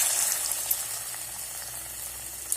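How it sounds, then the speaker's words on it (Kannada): Paneer fingers coated in gram flour batter fry in hot oil, giving a steady, close, even sizzle with a soft bubbling hiss throughout and a couple of faint clicks. "ಮೊದಲೇ ಎಣ್ಣೆ ಬಿಸಿಗೆ ಇಟ್ಕೊಂಡಿದ್ದೀನಿ. ಎಣ್ಣೆಗೆ ಹಾಕ್ತಾ ಇದ್ದೀನಿ."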